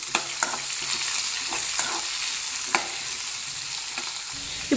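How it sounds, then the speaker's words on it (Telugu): Three large onions fry in a pan for a vegetarian curry, making a continuous close sizzle with occasional spatula scrapes and light taps, and no talking. "ఉల్లిపాయలు బాగా వేగాలి."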